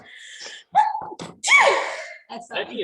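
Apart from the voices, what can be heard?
sneeze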